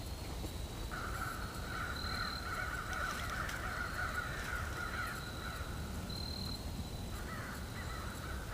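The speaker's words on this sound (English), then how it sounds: "Crows are upset." Crows caw faintly in the distance over a steady outdoor background hiss, with repeated harsh calls spread across the stretch.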